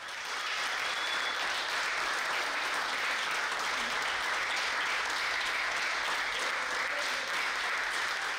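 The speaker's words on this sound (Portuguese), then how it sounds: "o Dia da Consciência Negra, que arrancou aplausos" Applause at a youth council session, a dense, even patter of many hands clapping continuously, heard somewhat distant and moderately quiet for the whole stretch.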